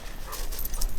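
A dog named Gage makes low, rough growling and whimpering sounds at close range, short and uneven against some background noise.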